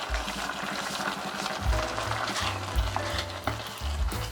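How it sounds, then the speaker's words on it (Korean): Mushrooms being stirred into soaked rice bubbling over high heat in a pot, a close, continuous sizzle and bubbling with scraping stirs and occasional utensil clinks. "보글보글 끓어오르면 버섯을 넣고 섞어주세요"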